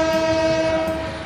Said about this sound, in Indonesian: Barusan kalau kalian dengar Semboyan 35, ini Semboyan 35-nya kereta Sri Tanjung